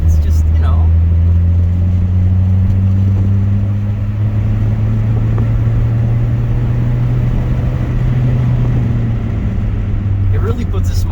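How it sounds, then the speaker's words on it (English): A Fiat Seicento 1100 'Abarth edition' with a Shadow drivers tuned exhaust gives a loud, close, low droning rumble whose pitch climbs slowly and steadily as it accelerates for about eleven seconds, with road and cabin noise underneath. "with the exhaust on, when you give it a little bit of gas, honestly, it's a riot."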